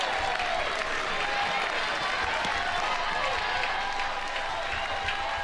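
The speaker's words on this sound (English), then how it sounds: "Crowd on its feet." A stadium crowd at a college softball game between Oklahoma and Alabama applauds and cheers in a steady, dense roar for several seconds.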